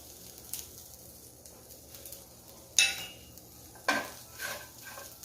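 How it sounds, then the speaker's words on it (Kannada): Ginger, garlic and cumin roasting in a pan for green tomato chutney, with occasional clanks of a utensil scraping the pan over a faint, quiet sizzle. "ಶುಂಠಿ, ಬೆಳ್ಳುಳ್ಳಿ, ಇದರಲ್ಲಿ ಸ್ವಲ್ಪ ಜೀರಿಗೆ ಹಾಕ್ಕೊಂಡು ನಾನು ಇದನ್ನು ಹುರ್ಕೊಳ್ತಾ ಇದ್ದೀನಿ"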